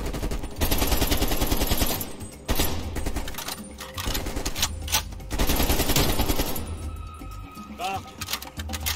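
Rapid automatic gunfire in Call of Duty: Black Ops Cold War, dense bursts layered with music and battle effects, loud throughout, with a voice speaking over the shooting.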